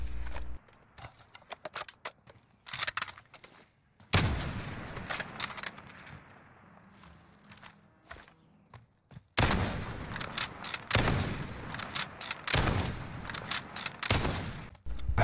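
Sniper rifle shots strike a riot shield in the Modern Warfare video game, producing sharp, loud gunfire cracks with metallic impacts in irregular bursts, separated by short quiet gaps and some longer ringing tails.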